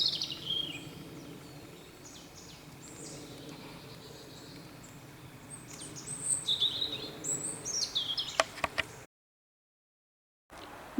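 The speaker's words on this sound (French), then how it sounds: "Je vois un petit oiseau là" A small bird chirping in a deciduous forest in December, a few thin high tweets scattered over quiet woodland ambience, fairly faint and distant, before a brief silence.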